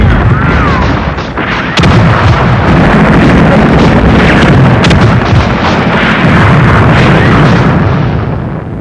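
Grenade explosions in a battle in Hong Kong, 1941, loud repeated booms and sharp bursts in close succession over a dense, continuous rumble of gunfire, with a faint voice in the background.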